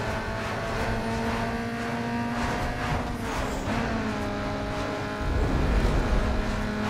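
Car engine in a drag race in the video game Need for Speed Underground 2, a steady high revving drone with rising gear-change harmonics, loud and continuous, with a heavier roar near the end.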